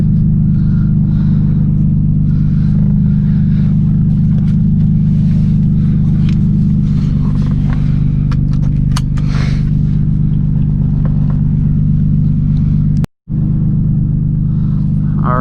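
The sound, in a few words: Nissan 350Z with HKS straight-piped exhaust rumbling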